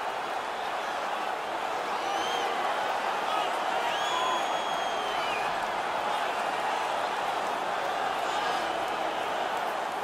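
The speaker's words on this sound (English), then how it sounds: "The crowd is ecstatic." A hockey arena crowd in the NHL 19 video game sends up a loud, steady roar of cheering that holds for the full ten seconds without a break.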